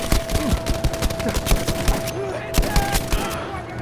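Battlefield V gunfire: rapid bursts of automatic shots crackle in quick succession, loud and close, with a brief lull before more bursts resume.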